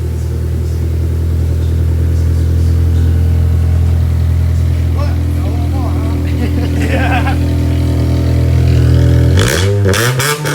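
A 2005 Honda Accord fitted with a custom dual exhaust idles with a deep, steady drone, then revs sharply near the end; people talk over it throughout.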